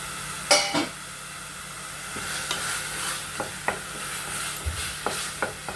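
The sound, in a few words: sautéing millet beetroot biryani masala with turmeric in a pan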